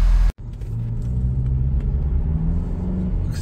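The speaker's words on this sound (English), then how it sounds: "Let's go drive around and see how it does." A Ford Bronco drives on the road, its low engine rumble and road noise steady and close inside the cabin after a brief cut at the start, with no voices.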